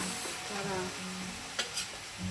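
A spoon stirs chicken tinola in a pot after salt and fish sauce go in, giving soft scraping strokes over a low simmering sizzle, with a sharper clink near the end.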